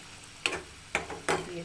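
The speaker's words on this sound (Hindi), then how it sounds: "बस मैं इसको अच्छी तरह से भून लूँगी, जो मैंने थोड़ा सा ऑयल डाला है उसमें।" Chicken roll paratha filling is being sautéed in a little oil while a utensil scrapes and stirs the pan in three distinct strokes over a faint background sizzle, up close.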